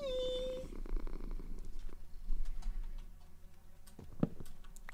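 A cat purring in Minecraft, a soft steady rumble running through the whole stretch, with a brief high tone at the start and faint ticking game sounds scattered over it.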